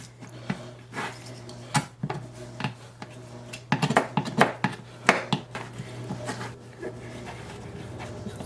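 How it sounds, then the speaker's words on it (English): Knife scraping meat from the bones of a rack of lamb while frenching it, giving scattered close scrapes, clicks and taps of blade on bone at an irregular pace, with a steady low hum in the background. "First you want to scrape everything off the bone."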